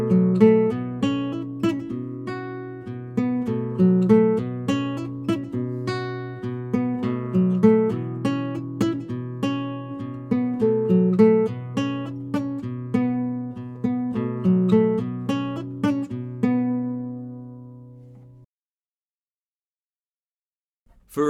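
Tuareg-style guitar refrain, a steady pedal-tone groove with quick trills and repeated melodic figures, played alone and close for about eighteen seconds before stopping into silence.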